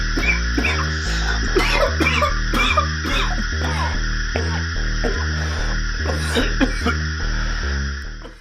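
Several people choking and coughing in a film scene set at night during a household gas leak, repeated harsh coughs and throat clearing over a strong rhythmic background music track, fairly loud throughout.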